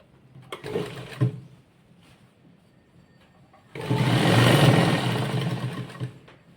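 Sewing machine stitching a child's skirt, first a few short soft bursts of motor whir, then a louder sustained run of stitching lasting a couple of seconds before it stops, close by and alone.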